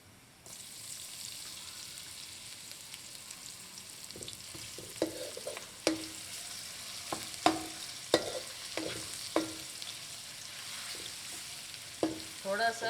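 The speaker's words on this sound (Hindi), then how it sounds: "थोड़ा सा इसको भून लीजिए अदरक लहसुन को" Ginger garlic paste sizzles and fries in a pan, with a steady low hiss and repeated sharp scraping clicks of a spoon stirring, fairly quiet and close.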